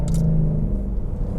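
A deep, loud Mercedes-AMG C63 Black Series engine rumble in sport mode, throaty and steady with a low growling drone throughout.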